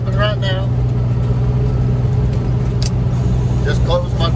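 A dump truck's diesel engine runs with a steady low drone while it dumps its load, and someone talks over the continuous engine noise.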